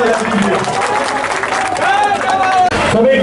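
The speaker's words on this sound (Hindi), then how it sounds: "सब एक दूसरे के ताली बजा दीजिए" Farmers at a gathering break into applause, a dense steady clapping with a crowd murmur and a voice running over it, close and fairly loud throughout.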